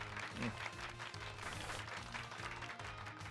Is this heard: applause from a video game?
yes